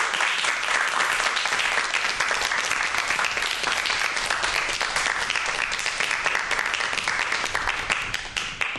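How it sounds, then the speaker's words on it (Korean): Sustained, dense applause from a studio audience welcoming a professor onto a television talk about global warming and climate, steady and full for the whole stretch before tapering slightly at the end. "박수로 맞아주시겠습니까?"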